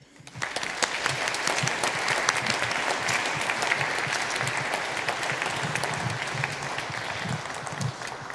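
Warm audience applause at a concert welcoming a brass ensemble, many hands clapping densely and evenly for several seconds, filling the hall with no speech over it.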